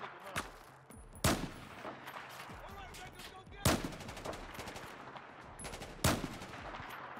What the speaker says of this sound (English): Oh, it's a machine gun.